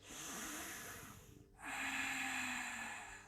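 One long breath is drawn deeply through the nose during a yoga practice, a brief pause follows, then a second strong airy breath runs to the end, close and clear with no talking.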